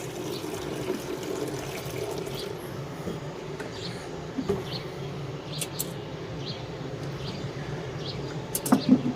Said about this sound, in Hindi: सबसे पहले आपने इसमें पानी डाल के इसको जो है एक दो इस तरह कर दें ताकि इसमें से गंद वगैरह वो निकल जाए